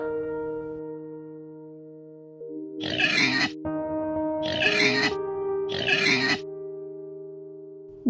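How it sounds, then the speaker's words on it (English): Three loud, close pig grunts in a steady row, each a rough, throaty burst lasting about a second, heard over soft sustained music in a children's learning song. "This is pig."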